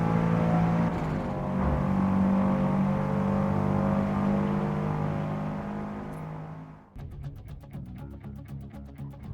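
A racing car engine in Forza Motorsport on PC drones loudly and steadily for about seven seconds, then cuts abruptly to a thinner, rougher engine texture.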